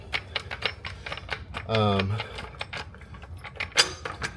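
Rapid ratcheting clicks of a jack being pumped under a 2025 Toyota TRD Tundra, close and crisp, with a short low mechanical groan midway as it takes load.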